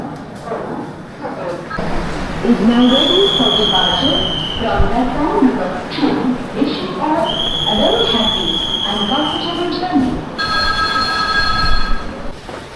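Train rolling along the rails, a continuous rumble with repeated high squealing tones from the wheels, loud and close, with people talking over it throughout.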